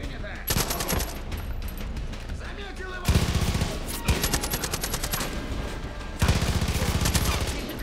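Bursts of automatic gunfire in the video game Far Cry 5 come in three long rapid volleys, loud and sharp with steady fast rhythm, separated by brief lulls under background game ambience.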